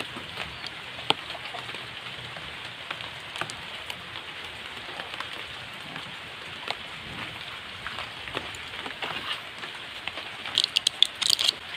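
Steady rain falls outdoors, a dense even patter close by, with occasional louder drops and crackles on nearby surfaces and no voices.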